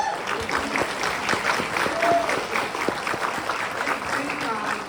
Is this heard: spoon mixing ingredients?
no